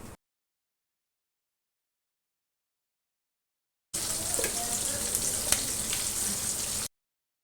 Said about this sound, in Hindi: फिर इसमें फ्राई करेंगे चिकन को